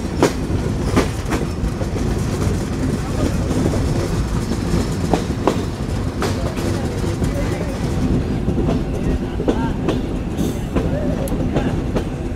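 Inside the Rupsha Express intercity train in Bangladesh, a loud, steady rumble fills the carriage as it nears Kotchandpur station, with rhythmic clickety-clack of wheels over rail joints throughout.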